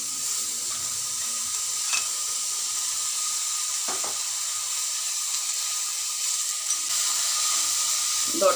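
Chopped doddapatre leaves fry in a pan, giving a steady hissing sizzle throughout with a few faint stirring scrapes.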